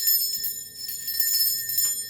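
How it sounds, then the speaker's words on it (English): A handheld bell rung for a space-cleansing ritual gives a bright, high, continuous tinkling shimmer, struck repeatedly at a steady level for about two seconds with no talking. "Now I'm going to be ringing this bell just to cleanse the space around us"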